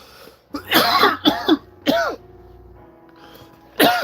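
A person coughs several times in quick harsh bursts, close and loud, then pauses and gives one more cough at the end, with a low mechanical hum underneath.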